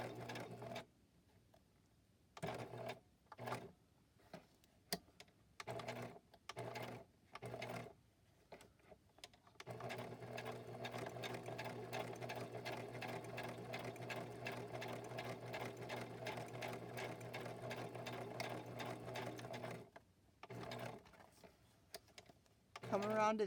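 A sewing machine stitches lace onto a wallpaper library pocket, starting with short stop-and-go bursts and then settling into a long steady mechanical run before halting, close and fairly quiet.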